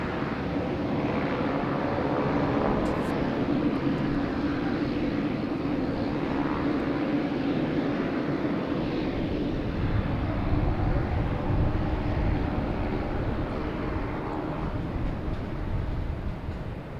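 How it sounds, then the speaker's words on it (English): Delta Airbus A321 arriving at Boston Logan Airport, a steady broadband jet roar holding at a constant level throughout, heard from a distance with no talk. "Have a Delta coming in from Minneapolis, A321,"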